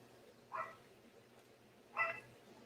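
A dog barks twice, a pair of short yips spaced about a second and a half apart, set at a moderate distance against a low steady background hum.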